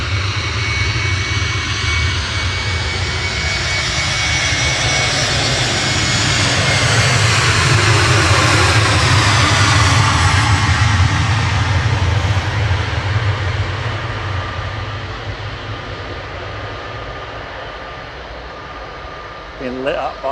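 EasyJet jet airliner at Manchester Airport, a loud sustained engine roar with a low drone that builds to a peak then slowly recedes, a voice occasionally heard beneath it.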